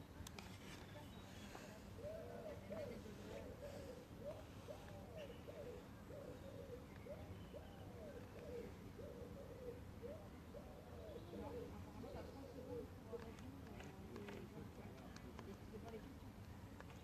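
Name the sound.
birds calling, owl-like hoots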